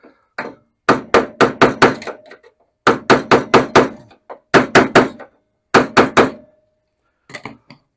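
Metal guide rail channel for a VW Beetle trunk seal being tapped into place: five sharp bursts of quick, solid knocks, each a run of four to six hits, close and loud, with a few lighter taps at the end.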